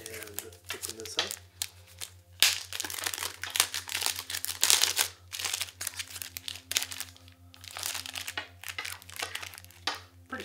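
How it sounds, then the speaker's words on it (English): Laptop power cable packaging for an Asus ROG Zephyrus 14 2023 being unwrapped up close, bursts of crinkling plastic and tearing in irregular rustles, with a voice talking between them. "Go ahead and unwrap this power cable, nice and long like that."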